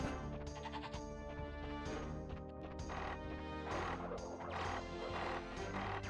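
Goat bleats from a Crash Bandicoot game level, loud and repeated over busy game music and crashing effects.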